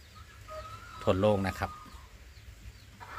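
Light Sussex chickens cluck in a short burst near the middle, close by, while someone speaks over a quiet background.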